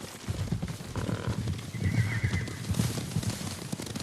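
Horses approach in Ghost of Tsushima, hooves clip-clopping in a steady thudding rhythm across grassland, with a whinny rising briefly above the steps, moderately close and without talk.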